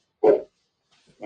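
A single dog bark rings out indoors, short and fairly loud, followed by silence and the faint start of another bark at the end.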